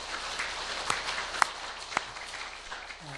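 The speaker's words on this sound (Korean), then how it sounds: "추운 날씨에 수고 많이 하셨는데 감사의 박수를 드리겠습니다" A church congregation applauds in thanks to the management department, a soft wash of clapping with a few sharper claps standing out, fading toward the end.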